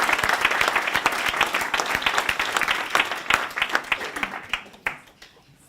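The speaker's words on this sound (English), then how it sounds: "can I please ask you to put your hands together and congratulate Jody" An audience at a 2018 VET International Practitioner Fellowship presentation claps for a fellowship recipient, loud dense applause that thins into scattered claps and fades out.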